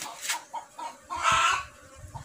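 Chickens cluck in short repeated bursts beside a beehive at a rural home, with a louder squawking stretch in the middle; the sound is moderately close, with light rustling and no talk.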